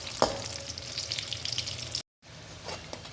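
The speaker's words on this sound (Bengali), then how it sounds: "লো ফ্লেমে রেখে এগুলোকে আমাদের ভেজে নিতে হবে" Steady sizzling of vegetable pakoras deep frying in hot oil over low flame, a brief break in the middle, then the bubbling hiss resumes, with a light clink near the start.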